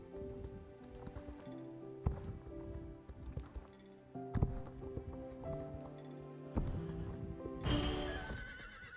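Horses in a horse-riding video game whinny several times over steady clip-clopping hooves, with game music and effects underneath; loud and close, no talk.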